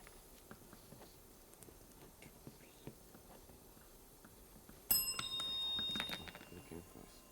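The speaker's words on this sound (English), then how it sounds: "And the bell came first." A bell rings sharply at a school quiz competition between Hampton School and Morant Bay High, a bright ringing tone that sounds loud and close and then fades over about two seconds, standing out from a quiet room.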